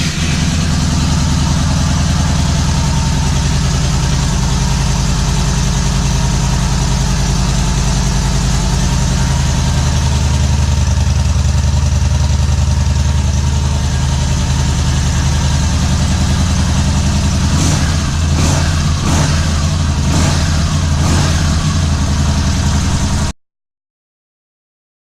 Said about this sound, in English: So this is how the Bolt sounds stock.